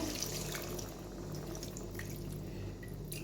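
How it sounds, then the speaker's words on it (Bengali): Water poured from a bowl into prawn curry simmering in a pan, a continuous close splashing pour lasting a few seconds, with no talk. "আমি এক বাটি মতন জল দিলাম"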